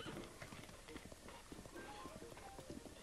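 Horse hooves clip-clop at a trot in Zelda: Breath of the Wild, a quick, steady rhythm of soft thuds, faint and continuous.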